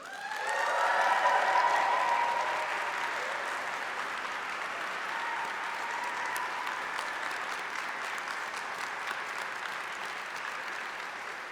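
Graduates at a university graduation ceremony in a large, cold building give sustained applause, a broad wash of many clapping hands that swells early and holds steady before slowly easing, with a few cheers at the start.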